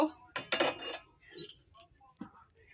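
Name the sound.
cutting vegetables (raw banana) with a knife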